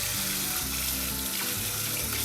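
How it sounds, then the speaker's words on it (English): Cool tap water pours steadily from a kitchen faucet into a bowl of cooked eggs in the sink, a continuous loud splashing rush with no voices. "We're going to put some cool water on top."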